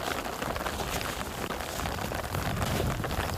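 Heavy rain drums steadily on a tent during a riverside camping and packrafting trip, a dense, continuous patter close to the microphone with some wind noise, no talking.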